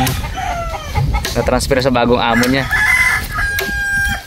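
A rooster crows loudly and close by at a rural farm, its long rising call dominating the clip, with someone speaking over and around it.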